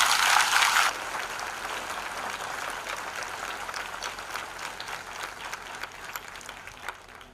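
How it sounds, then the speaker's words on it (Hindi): An audience at a Hindi Christian church sermon applauds, the clapping loud and dense at first, then easing into softer, scattered claps that fade gradually toward the end. "आइए यीशु के लिए जोरदार ताली बजाएं।"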